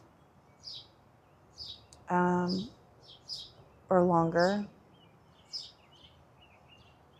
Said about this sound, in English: listen to the birds and feel the breeze